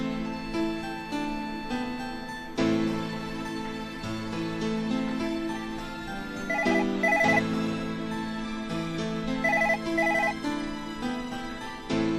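A classic telephone bell rings in repeated trilling bursts, loud and steady over a sustained musical background, with no talking.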